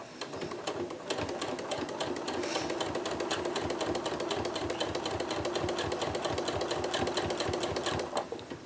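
Sewing machine stitching along a bag tab, a rapid, even mechanical chatter close and loud that runs continuously for several seconds and tapers off at the end.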